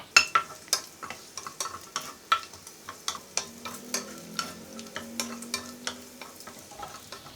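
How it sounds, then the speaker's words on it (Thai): Chinese sausage fries gently in oil over low heat, a soft sizzle broken by a steady run of sharp scraping ticks as a utensil stirs the pan, close and fairly quiet. "อันนี้ให้เราทอดต่อเลยครับให้กุนเชียงสุกเหลืองหอมดีเลยนะครับ"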